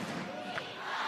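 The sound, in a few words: volleyball crowd cheering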